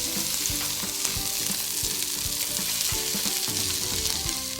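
Stuffed mushrooms frying filling side down in reserved bacon grease in a skillet, a loud, steady sizzle with crackles and a few clinks throughout.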